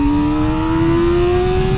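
A Honda CBR600F4i motorcycle engine revs high and loud, its whining tone climbing steadily in pitch throughout the short burst.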